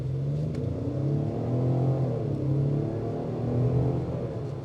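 A 2025 Ford Explorer ST Line accelerates with a steady, rising engine drone and rumble, the tone climbing and swelling in waves as the SUV pulls hard, heard from inside with no talking.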